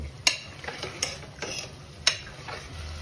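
Mutton is fried and stirred with meat masala in a pan, with a few sharp spoon taps and scrapes at irregular intervals over a faint steady background.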